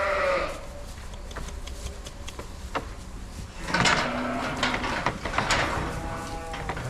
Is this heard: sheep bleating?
yes